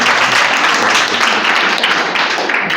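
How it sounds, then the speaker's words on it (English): Audience applause at a Menstrual Hygiene Day school gathering at a senior high school, loud continuous clapping throughout, close and full. "With a round of applause, let's invite."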